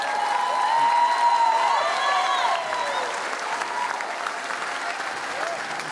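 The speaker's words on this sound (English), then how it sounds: "Give him a round of applause." Audience applause fills a wellness workshop as a guest is welcomed to the stage, steady clapping swelling for about two seconds then tapering slightly while a few voices murmur over it.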